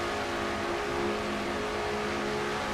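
A race car engine in a video game racing series screams at high revs, a steady, sustained whine holding near constant pitch throughout, fairly faint and heard alone without voices.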